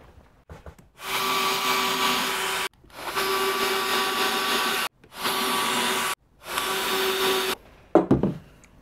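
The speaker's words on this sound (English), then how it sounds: "I'm just going to drill in some locating holes" A power drill bores locating holes into a wooden guitar body in four loud, steady whirring bursts of a couple of seconds each, separated by short pauses, ending with a brief rattle.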